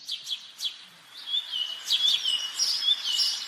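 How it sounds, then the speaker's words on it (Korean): Birds chirp and tweet in short, high, bright calls, some quick and repeated, others trilling, over a quiet background. "새들 한번 들어볼까요?"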